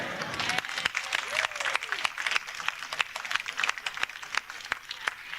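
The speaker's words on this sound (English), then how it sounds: "give a great round of applause to all the community leaders and the supporters of the Chinatown Library" A crowd at the opening ceremony of San Francisco's Chinatown Branch Library in 1996 applauds community leaders with a moderate, uneven patter of clapping and distinct individual claps, with a voice briefly audible at the start.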